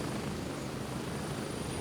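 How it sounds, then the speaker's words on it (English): A helicopter in the Gray Zone Warfare video game drones with a steady, dense rotor and engine roar that holds at an even, moderately close level for the whole stretch, with no voices over it. "Did you steal someone else's helicopter last time?"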